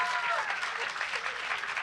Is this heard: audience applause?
yes